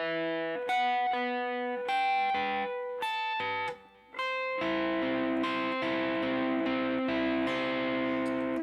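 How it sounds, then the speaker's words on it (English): Electric guitar playing the interlude of a song: sparse picked notes and chords at first, then a fuller, sustained strummed passage after a brief drop, close and clear with no talking. "I'm gonna grab my electric guitar because we got this interlude part that comes in"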